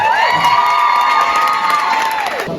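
An audience at a school award ceremony for tutoring winners breaks into loud, continuous cheering and shouting, with children's voices prominent and a whooping edge, filling the whole stretch before dropping off at the end.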